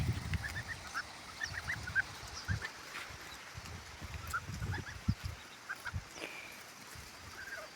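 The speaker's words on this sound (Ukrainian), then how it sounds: "А гуси пішли до ставочка." Grey geese honk repeatedly in short, uneven bursts at a moderate distance, over a soft outdoor background.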